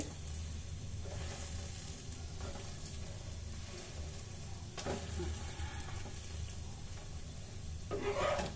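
A cauliflower-stuffed paratha fries in a pan with a dense, continuous sizzle that swells briefly as it is pressed or turned, close up and without speech.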